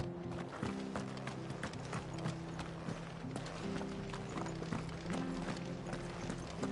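Horse hooves clip-clop steadily in Final Fantasy 16 as a mount trots toward the stables, a continuous rhythmic patter of hoofbeats over a low ambient drone, with no talk over it.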